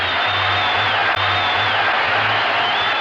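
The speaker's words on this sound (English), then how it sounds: "You see the crowd come alive, all because of a home run." Stadium crowd roaring after a home run at a 1976 American League playoff game between the Royals and Yankees in New York, a dense sustained cheer under a steady low hum.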